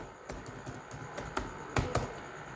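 A project title is typed on a computer keyboard, a quiet run of separate key clicks in an uneven rhythm with a few louder strikes, close and with no voices.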